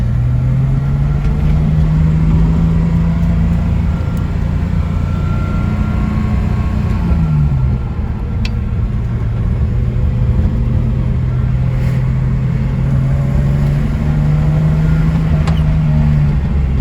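A lime green 1973 Datsun 240Z with a rebuilt Weber-carbureted engine and 4-speed driving along, a loud steady engine drone with rising and falling pitch as it shifts and accelerates, heard close and continuous.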